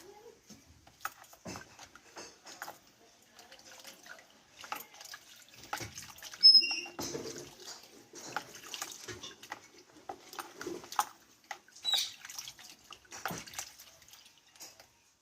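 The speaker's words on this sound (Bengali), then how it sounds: "আমটা আগে ভালোভাবে পরিষ্কার করে ধুয়ে নেবো" Water splashes and drips intermittently as a raw mango is washed, with soft irregular trickles and handling noises at low volume.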